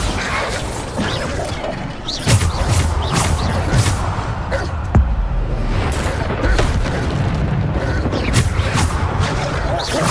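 Bombarda spell blasts go off in Hogwarts Legacy during Niamh Fitzgerald's trial, a steady series of heavy bangs and crashing impacts spaced across a loud, busy battle with constant rumbling between hits.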